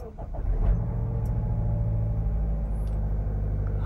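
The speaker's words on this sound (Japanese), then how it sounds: "ちょっとエンジンかけさせてもらいます" A Mazda CX-8, the updated model, has its engine started. The rumble rises quickly and settles into a steady, close idle that continues without talk.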